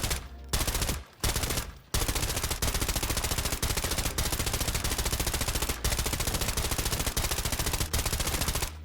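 Sustained automatic weapon fire from a gun in the shooter game Arena Breakout: Infinite, loud and close. Rapid bursts are broken by a few short pauses early, then one long continuous stream of shots.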